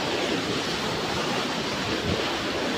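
A steady, dense rush of falling water fills the whole clip, broad and unbroken, with no voices.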